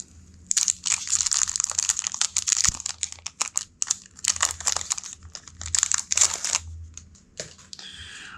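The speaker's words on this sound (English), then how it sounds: "I guess I'll put it back in the baggie for now." A plastic baggie crinkles close up in bursts as board game pieces from a Tiny Epic Dungeons deluxe box are pushed back inside, with sharp rustling clusters and short pauses between.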